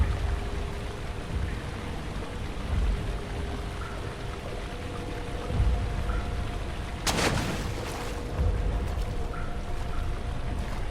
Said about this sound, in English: I made a loud splashy splash over there.